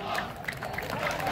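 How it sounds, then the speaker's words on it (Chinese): Crowd applause and cheering at a military drill exhibition, scattered clapping with shouts mixed in, moderately loud and continuous over the short stretch. "掌声欢迎。"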